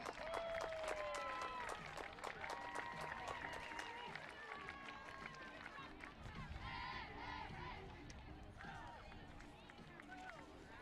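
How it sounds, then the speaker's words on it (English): Fans at a women's football match between Harbourside FC and Unity FC clap amid crowd noise, with shouts, cheers and high calls rising over the scattered applause. "Fans, give yourselves a round of applause."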